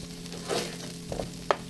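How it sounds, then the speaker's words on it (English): Vegetables sizzle steadily in a pan while being stirred, with a few soft scraping strokes and a brief clink near the end, heard up close with no talk. "I'm going to go over there and stir my vegetables"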